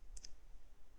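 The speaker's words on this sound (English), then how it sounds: "Now press delete key from your keyboard and delete," A single computer keyboard key pressed twice in quick succession, two faint crisp clicks alone against a low room hum.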